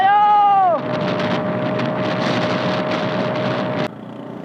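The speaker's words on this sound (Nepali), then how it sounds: "हावा लाग्यो" Wind roars steadily and loudly against the microphone during a motorbike ride toward snowfall at Resunga, after a brief tonal sound at the start.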